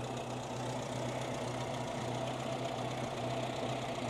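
A 1949 Simca 8 Sport's small engine with carburettor and air filter idles steadily, a constant low hum with faint knocking, moderately quiet and uninterrupted by talk.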